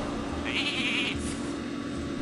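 Sheep bleat from a Hearthstone card game, a short wavering bleat standing out briefly over a steady low background hum.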